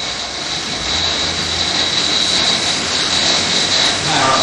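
A pedal-powered generator bike running steadily, a continuous loud whirring hum with a sustained high whine, holding even for the whole span and nearby.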